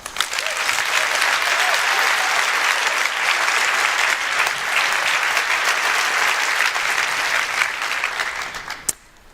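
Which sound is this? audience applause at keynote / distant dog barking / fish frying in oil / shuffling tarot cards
audience applause at keynote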